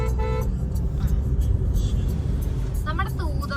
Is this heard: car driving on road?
yes